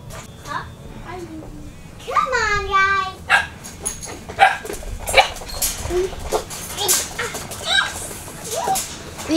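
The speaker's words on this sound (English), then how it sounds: "These are puppies." Bernedoodle puppies yip, whimper and bark in high little bursts nearby, with people talking over them.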